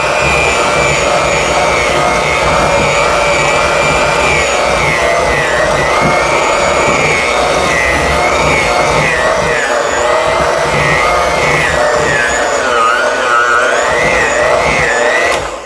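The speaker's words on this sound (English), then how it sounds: "The beaters were having a little trouble getting through it." Electric mixer beaters churn a thick banana cake butter mixture in a bowl, a loud, continuous whirring drone with a wavering pitch as the beaters labor through the batter.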